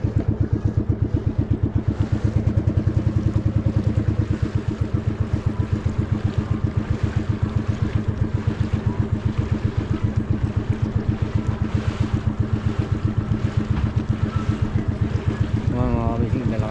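Two fishing boats sit with their engines running, a loud, steady chugging pulse throbbing rhythmically throughout, with voices talking over it.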